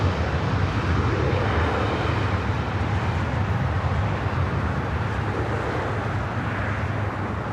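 An ITA Airways jet roars down the runway on a north side takeoff at LAX, a loud, steady broadband engine rumble that holds throughout with little change.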